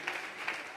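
Church congregation at a Sunday service clapping hands as an offering to God, a brief burst of dense, continuous applause at moderate distance.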